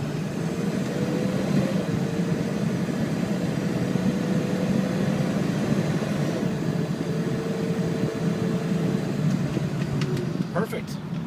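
Steady engine drone of a 2003 Ford F350 Lariat crew cab with the 7.3L diesel, accelerating from a stop and running through its gear shifts, heard from inside the cab as a continuous rumble with a faint voice over it.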